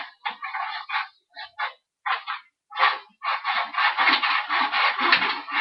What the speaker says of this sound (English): You're going to start cutting it right where the bolt is, where it looks like there's a bolt.